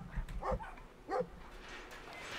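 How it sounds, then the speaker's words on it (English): Dogs bark in the adventure game Brothers: A Tale of Two Sons, two short, fairly faint bursts of barking and whimpering over a quiet game background. "Ooh, let the dogs out."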